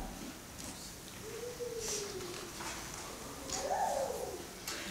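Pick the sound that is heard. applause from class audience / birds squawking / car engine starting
birds squawking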